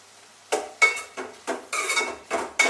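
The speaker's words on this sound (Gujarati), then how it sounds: "હવે આને સરખી રીતે આપણે હલાવીશું." A spoon scrapes and clatters repeatedly against a pan while vaseti leaf curry is stirred with turmeric, coriander-cumin powder, garam masala, salt and chutney, giving about seven distinct close, loud bursts with no talking.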